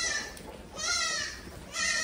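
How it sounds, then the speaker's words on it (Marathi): A Beetal goat penned on a farm gives two clear nasal bleats, close and moderately loud, with a brief pause between them. "हे पूर्णतः बिटल प्रकारची शेळी आहे"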